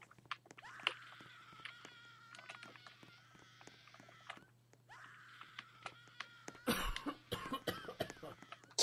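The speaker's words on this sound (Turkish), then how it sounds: "Kim öksürüyor ya?" Someone coughs in short bursts in a Roblox hospital game. There are faint repeated hacks, a louder rough cluster near the end and a steady low hum underneath.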